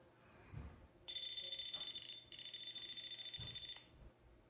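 A voltage tester sounds a high, steady electronic beep twice in close succession, each lasting about a second, fairly clear over a quiet room, signaling a live circuit.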